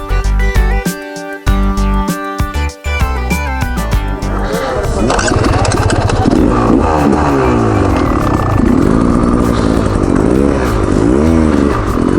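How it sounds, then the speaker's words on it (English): Loud, continuous engine roar from a 2019 Beta Xtrainer 300 two-stroke motorcycle being ridden, with rising and falling revs and some clatter, heard up close throughout. "We're now riding the Xtrainer 300."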